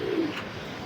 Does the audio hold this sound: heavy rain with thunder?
no